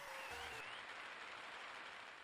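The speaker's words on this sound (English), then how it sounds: "Yeah, that's not the part where they should be cheering." In the Pokemon Rejuvenation video game, a crowd cheers and applauds as a continuous, hissing wash of noise, faint and steady throughout, with a brief tonal game sound at the start.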